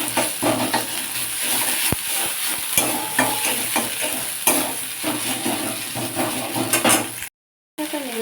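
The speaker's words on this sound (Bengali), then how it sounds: "মশলাটা একটু ভেজে নেয় যাতে কাঁচা গন্ধটা চলে যায়" Ground spice paste fries in a pan for a vegetarian okra dish with a steady close sizzle. Scraping stirs and occasional clinks of a spoon against the metal pan break in, and there is a brief dropout near the end.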